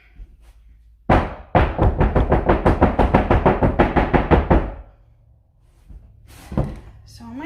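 A soap mold holding a twelve-pound poppy soap slab is banged on a table in a rapid run of about twenty close, loud thumps, followed by quiet and a short sound near the end.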